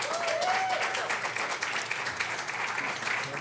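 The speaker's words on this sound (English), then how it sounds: "let us one more time give a round of applause for all of our candidates" Audience at a candidate forum gives the candidates a round of applause, a dense, even clapping crowd with a brief whistle-like tone near the start.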